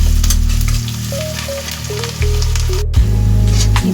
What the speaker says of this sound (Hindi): प्याज अच्छी तरीके से भुन गया है।